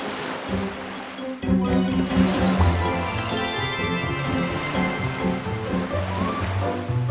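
Rough cartoon sea waves wash and surge beneath a playful music score, a steady churning rush that swells suddenly after a short pause and continues at a loud, even level.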